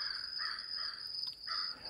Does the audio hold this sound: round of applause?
no